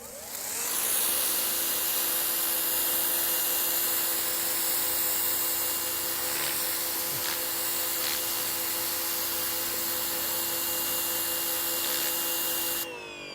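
EGO 56V battery pressure washer, 3200 PSI and 1.2 GPM, spraying through its turbo nozzle, a loud steady hissing roar with a constant motor whine that holds unbroken for over ten seconds with no talking.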